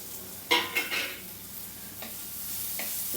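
Chopped onions with ginger, garlic and chilli frying in a pan give a constant soft sizzle, broken by a few sharp scraping stirs of a utensil against the pan early on and near the end; no talking.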